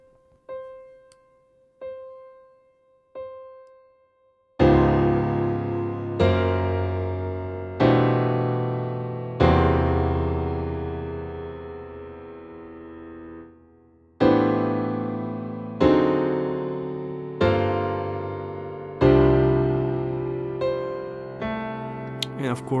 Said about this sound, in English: It's on piano right now